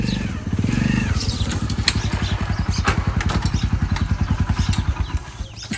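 A motorcycle engine idles close by with a steady, rapid thumping putter, running continuously with slight clatter throughout.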